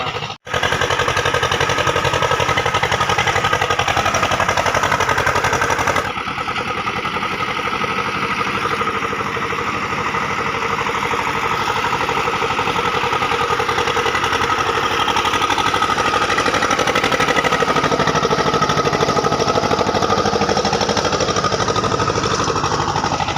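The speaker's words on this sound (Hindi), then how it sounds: "देखिए दोस्तों, हमारे यहाँ इस ट्रैक्टर से सीधे जोत दिया जाता है खेत।" A Sonalika DI 730 tractor engine runs steadily while puddling a muddy paddy field, giving a loud, close, rough chugging drone that goes on without a break, with a sharp change in tone a few seconds in.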